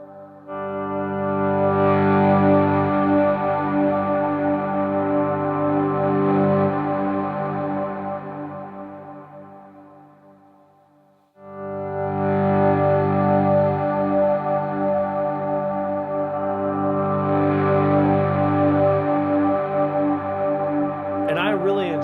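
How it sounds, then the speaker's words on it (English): A guitar through a boost pedal plays sustained, swelling chords that start clean and turn gritty and distorted, with a short dip to near silence partway through before the swell returns. "It starts off clean, but then it gets a little gritty at the end."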